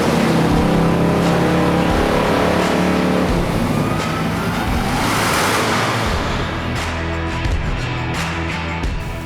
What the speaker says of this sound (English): his E85 eating Hellephant-powered monster JL that we're going to strap to our dyno